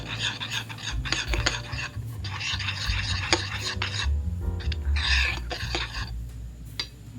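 A hair mask of mixed ingredients including mayonnaise being stirred in a bowl, with close, continuous scraping and rubbing of a utensil against the bowl in uneven strokes.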